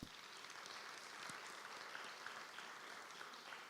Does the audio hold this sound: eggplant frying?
no